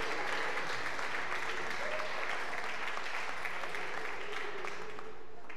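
A stand-up comedy audience applauding a joke, dense continuous clapping that stays loud and even throughout, with crowd murmur mixed in.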